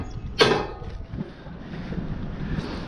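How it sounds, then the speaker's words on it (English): Brief outdoor wind gust in a yard, hitting with a sudden loud buffeting burst and then fading into softer, uneven rustling noise with no speech. "We just got a little wind gust right there."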